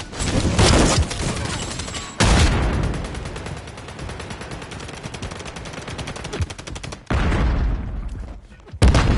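An intense video game firefight, with dense automatic gunfire rattling in fast, continuous bursts, loud and close, broken by a couple of abrupt pauses before heavy shooting resumes.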